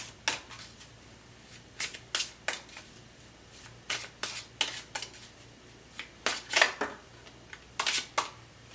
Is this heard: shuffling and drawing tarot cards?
yes